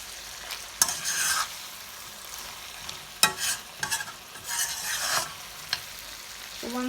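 Mutton and potatoes roasting in masala are stirred in a pan, with repeated scraping strokes over a soft continuous sizzle at close range and no talking.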